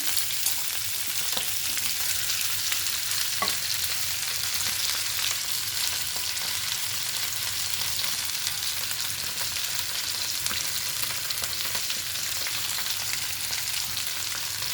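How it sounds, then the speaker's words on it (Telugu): Ivy gourd (dondakaya) pieces fry in a pan, giving a steady, loud sizzle that runs unbroken throughout, with a few faint stirring clicks and no talking. "ఇప్పుడు దొండకాయ ముక్కలు వేసేసుకుందాం."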